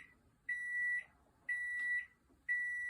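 Three long, steady electronic beeps from an appliance heating chocolate, evenly spaced about a second apart, clear and alone with no talking.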